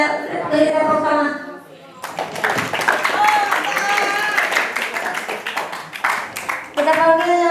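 An audience claps after an evening Ramadan religious talk. The clapping is dense and sustained for several seconds, mixed with voices, and speech comes before and after it.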